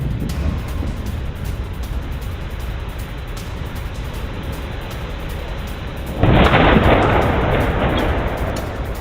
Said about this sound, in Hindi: अब रूस ने कीव पर स्कैंडर मिसाइल से अटैक किया।